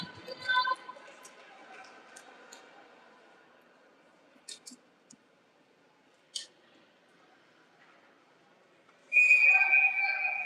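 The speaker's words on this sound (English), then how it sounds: "Whistle goes." At an ice hockey game, a referee's whistle blows one sharp shrill blast near the end, after a stretch of faint rink noise, scattered stick and puck clicks, and quiet commentary.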